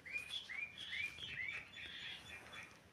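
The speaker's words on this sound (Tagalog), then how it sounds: "Ingay ng mga ibon" Birds chirp outside in Australia in the early morning, repeating bright, faint, whistled chirps in quick succession against a quiet background.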